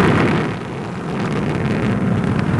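A deep, continuous roar from Atlas rocket engines and solid boosters during the 1995 SOHO launch rumbles steadily and loudly, a dense broadband thunder with no pauses.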